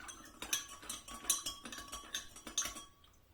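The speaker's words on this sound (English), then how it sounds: "So just give that another stir." Metal tongs stir chili-coated fermented vegetables, giving a run of close, light clinks and scrapes in an irregular rhythm, with no voices over them.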